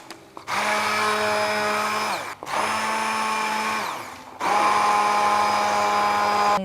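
An electric blender whirs loudly and close while mixing a drink in three sustained bursts separated by short pauses, its motor pitch steady within each run.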